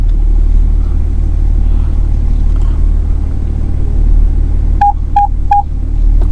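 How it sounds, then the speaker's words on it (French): A 2001 BMW 730d E38 reversing out of a garage, its parking sensors giving three quick, clear beeps near the end over a loud, steady diesel engine rumble. "On entend les radars de recul puisque évidemment je fais une marche arrière pour m'extraire du garage"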